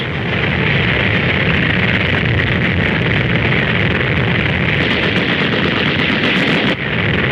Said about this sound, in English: Crossing a stream under artillery fire.